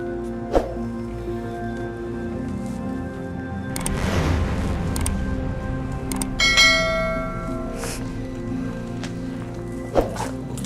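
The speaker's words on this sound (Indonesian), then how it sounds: "Lonceng suci." A few bright metallic strikes of a sacred ritual bell ring out over a steady tonal drone and background shuffling, with ringing tones lingering between hits.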